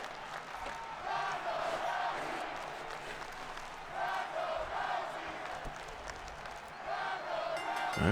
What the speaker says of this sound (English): it sounds like she's got a crowd here tonight in Phoenix